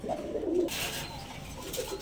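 A pair of sky-blue Rajgolla pigeons, a male and a female, coo softly at close range in a couple of low, throaty phrases.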